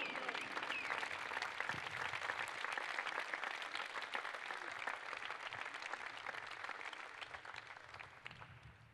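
Steady, dense applause from a large football stadium crowd at a player farewell, sustained for several seconds with scattered sharper claps, gradually easing slightly toward the end.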